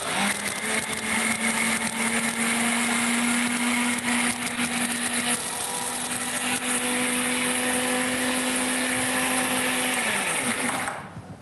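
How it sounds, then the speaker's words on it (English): A blender whirs loudly and steadily for about ten seconds blending a dip, its motor tone holding even before cutting off at the end. "And we'll just blend that up."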